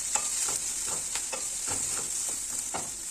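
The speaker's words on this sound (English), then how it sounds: "Our onions are also getting done really well." Onions frying in a pan, alongside fish fillet and lemon rice cooking: a steady close sizzle throughout, broken by soft rhythmic scraping strokes of a stirring utensil.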